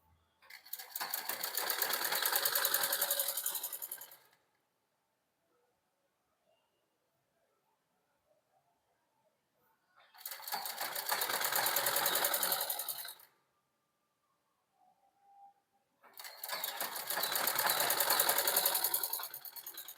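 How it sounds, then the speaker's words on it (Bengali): Sewing machine stitching blouse body fabric in three loud, close runs of rapid whirring lasting a few seconds each, separated by quiet pauses with faint handling sounds. "তাহলে এখান থেকে আমরা আবার একটা সেলাই দিয়ে দেবো।"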